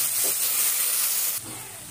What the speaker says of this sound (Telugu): ఉల్లిపాయ టమాటా మగ్గిన దాకా 2 నిమిషాలు వేసుకుంటే మగ్గిపోతుంది